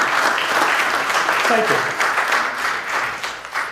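An audience at a market research conference talk applauds steadily, a broad wash of clapping with a speaker briefly talking over it.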